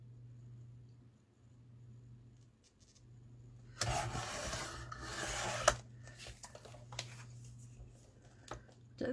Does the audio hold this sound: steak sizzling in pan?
no